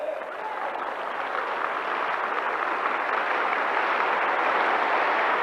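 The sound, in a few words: audience applause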